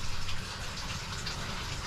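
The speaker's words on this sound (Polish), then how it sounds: "Woda schodzi." Water drains steadily from an RV trailer sink during a leak test, a continuous close rushing gurgle that holds at an even level throughout, with no voices.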